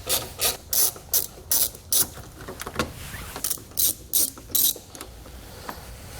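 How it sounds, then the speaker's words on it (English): A ratchet driver clicks rapidly in short bursts while backing out T20 Torx screws on a 2012 GMC Terrain base plate installation, loud and close, followed by quieter scraping and handling noises, with no speech. "We're going to take a T20 Torx bit. We're going to remove both of these here on both sides."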